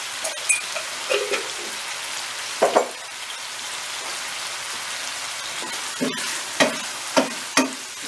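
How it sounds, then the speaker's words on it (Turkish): Chicken pieces for a mushroom chicken kavurma frying in a pan while being stirred, a steady crackling sizzle like rain with scattered spatula clacks and scrapes, close and without voices. "Güzelce her tarafı kızarana kadar bir yandan karıştıralım, bir yandan pişirelim"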